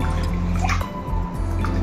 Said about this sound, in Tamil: இது நல்லா ரெண்டு வாட்டி நல்லா கழுகணும் அரிசி